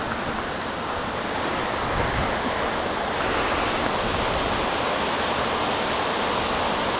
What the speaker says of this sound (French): Elle est belle cette petite cascade, hein.